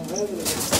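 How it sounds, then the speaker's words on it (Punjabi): A Barda pigeon coos in short, close murmuring phrases, with someone talking over it. "ਇਹ ਬਰੜਾ ਕਬੂਤਰ ਹੈ ਜੀ"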